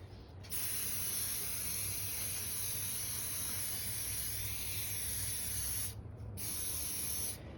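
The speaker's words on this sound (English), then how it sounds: "hold upright, spray 7 to 10 inches away, a light even coat, and do a second coat" Kiwi boot waterproofer sprayed from an aerosol can onto Wolverine Wellington boots: one long continuous hiss, a short pause, then a second burst, close and steady.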